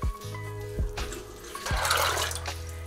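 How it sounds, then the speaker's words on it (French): Water is poured into a pot of soaked beans in a kitchen, a splashing, gurgling stream with a few short pulses and a brief burst of louder splashing, close and moderately loud. "Je vais mettre dans mon eau. J'y ajoute encore de l'eau."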